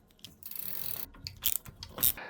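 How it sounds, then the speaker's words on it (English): Clamp bolts on a bike axle being loosened with a tool: soft, close ratcheting clicks and a short run of rapid ticks, with faint scraping and taps between them. "So let's get started by loosening off the clamp bolts on the axle."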